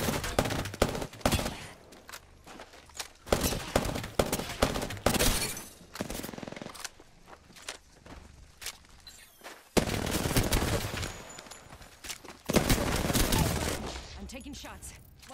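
Gunfire in the video game Apex Legends: repeated bursts of shots in clusters across the clip, loud and close, with brief pauses between volleys and game sounds around them.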